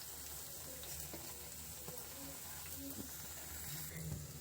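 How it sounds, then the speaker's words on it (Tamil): Bread pieces sizzle quietly and steadily in hot oil, a soft continuous frying hiss with faint occasional clinks, low in level throughout. "இப்போ மிச்சம் இருக்கிற பிரெட் பீஸையும் அதே மாதிரி ரோஸ்ட் பண்ணி எடுத்துக்கலாங்க"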